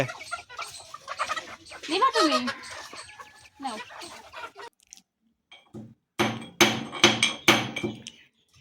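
Chickens cluck and squawk while being caught on a family farm, a flurry of agitated calls and flapping, sharp thumps in bursts, then a short quiet gap before a loud burst of scuffling and clucking returns.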